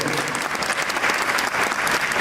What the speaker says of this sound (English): Another round of applause for all our honorees.